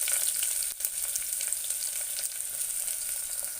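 Green chilies and onions sizzle in hot ghee and oil in a pan, a loud, continuous crackling fry with a brief stirring bump near the start and no talking.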